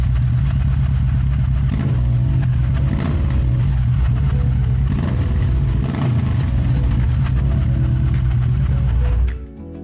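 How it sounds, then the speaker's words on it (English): Kawasaki Vulcan S 650 motorcycle with a CS Racing exhaust, baffle removed, running nearby with a loud, deep, bassy rumble that holds steady and rises and falls slightly before cutting off abruptly near the end. "Just a really mean sounding exhaust, really bassy."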